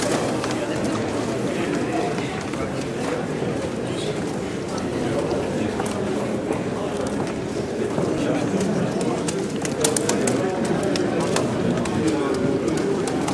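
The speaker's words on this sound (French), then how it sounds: "Moi, je reconnais tout de suite les pigeons." Pigeons at a pigeon loft cooing amid flapping and shuffling, soft repeated low coos under steady background bustle, with people talking throughout.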